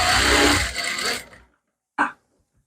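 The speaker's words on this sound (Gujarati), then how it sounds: "તો અહીંયાથી આ જોઈન્ટ પર સિલાઈ લગાવી દેવાની" A sewing machine runs a short burst stitching the seam of a princess-cut blouse, loud and close, then stops abruptly, followed by a single brief click.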